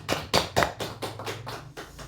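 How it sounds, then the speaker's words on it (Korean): A congregation in a Korean church claps in a short series of about six sharp, fairly close bursts that come at a quick, uneven rhythm and fade toward the end. "하나님께 영광의 박수를 드리겠습니다"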